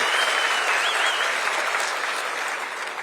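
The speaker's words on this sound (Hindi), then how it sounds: "तीनों बेटियों का ताली बजा के स्वागत करें" A large crowd at a live political rally claps to welcome three daughters: a continuous wash of applause that starts loud and fades slightly toward the end, with no speech over it.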